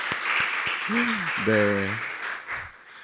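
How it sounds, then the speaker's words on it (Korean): A congregation at a church's 40th-anniversary Sunday morning service applauds, with a steady wash of clapping running under a man's brief spoken reply and a short vocal sound. "우리 서로를 위해서 한번 박수를."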